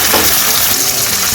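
Japanese puti fish from a home pond, several at once, frying in oil in a pan, a loud, dense, continuous close-up sizzle.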